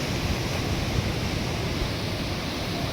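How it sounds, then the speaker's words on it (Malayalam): Rough sea waves at Chellanam, Kerala make a constant, loud roar of surf with no break or quiet moment. "ഭയങ്കര റഫാണ് കടൽ"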